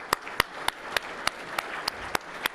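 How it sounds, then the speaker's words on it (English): Scattered claps from a reunion audience honouring special guests at a 50th class reunion, about nine sharp, separate hand claps spaced unevenly over a quiet room murmur, sounding like a thin, sparse round of applause. "We give them applause for them today."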